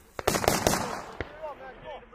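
Rapid close bursts of gunfire crack at a US and ROK Army live fire exercise, several sharp shots in quick succession followed by a later single report, with shouted commands between.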